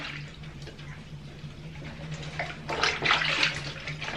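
A cheer uniform being gently scrubbed in a tub of water, soft sloshing and splashing that grows louder toward the end, alone without talk.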